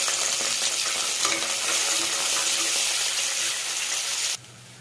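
Onions frying with whole spices in ghee inside a pressure cooker for chicken biryani give a steady, loud, dense sizzle with occasional stirring scrapes, cutting off abruptly near the end to a faint hum.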